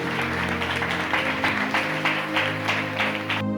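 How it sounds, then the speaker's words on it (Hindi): A congregation applauds for the word of God at a church service, a continuous rippling patter of clapping over a sustained musical drone or keyboard chord. "एक जोरदार ताली परमेश्वर के वचन के लिए बजाएंगे"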